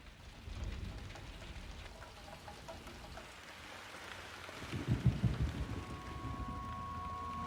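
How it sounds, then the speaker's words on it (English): Storm with steady rain hissing throughout and a low rumble of thunder building in the second half, fairly faint and distant, followed by a sustained tonal hum near the end. "There was a storm."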